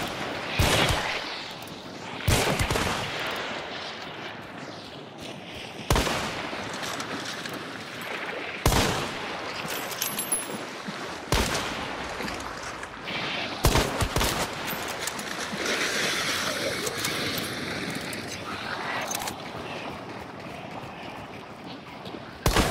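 Hunt: Showdown gunfire crackles in sharp bursts and sustained volleys in a swamp, with explosive cracks scattered throughout and faint voices underneath.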